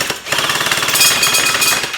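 He-E Punisher V2 toy blaster firing in a rapid, loud mechanical burst, a dense buzzing rattle of repeated shots close to the mic for about two seconds.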